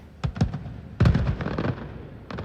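New Year fireworks over the Burj Khalifa in Dubai, 2021: distant bursts and crackling pops come in two clusters, one quick pair then a longer rolling volley, echoing across the city.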